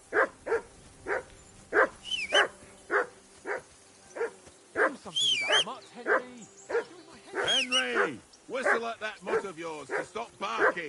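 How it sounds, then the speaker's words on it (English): Repeated dog barks from a hound in the medieval video game Kingdom Come: Deliverance II, a steady run of close, loud woofs, then whining yips and whimpers between the barks, with someone talking over part of it. "Be quiet, you flea-bitten hound."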